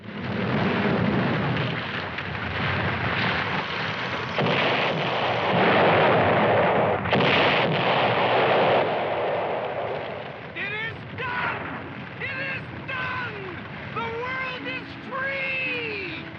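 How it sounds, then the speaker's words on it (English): Heavy, rumbling explosions roll through a battle in the 1977 animated film Wizards, a long dense blast of noise that gradually gives way to scattered whooshes and tones, with a narrator speaking partly over it. "the whole of Scorch starts blowing up for some reason"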